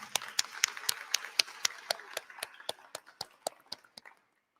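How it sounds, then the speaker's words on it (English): A small group at a high school graduation claps for faculty and teachers, with sharp, distinct hand claps in an uneven rhythm that thin out and stop after about four seconds. "So let's give them a round of applause."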